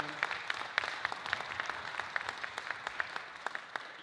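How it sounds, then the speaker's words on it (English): Faint applause from a small gathering at a meeting honoring a board member, a thin spread of clapping with a few sharper claps standing out. "Let's give Tom another giant round of applause for all he's done"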